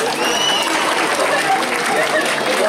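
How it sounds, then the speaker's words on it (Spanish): Crowd clapping for a Gendarmería police dog after a ball-fetch demonstration, a broad, continuous round of applause that stays loud throughout, with chatter and voices mixed in. "Un aplauso para él."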